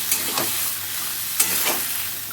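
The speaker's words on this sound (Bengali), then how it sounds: "এখন মশলাটা কষিয়ে নিব সিম আলুর সঙ্গে" Spice paste frying with flat beans and potatoes in a pan: a steady, close sizzle with a few scraping stirs of a spoon, no voices.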